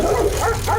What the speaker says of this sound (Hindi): कुछ कुत्ते राजेश की साइकिल को देखकर भौंकने लगते हैं।